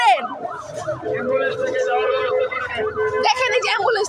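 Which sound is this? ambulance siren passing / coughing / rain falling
ambulance siren passing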